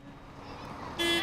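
A truck horn blasts once, loud and brief, near the end of a short stretch of faint outdoor crowd noise at a Touch a Truck event outside a mall.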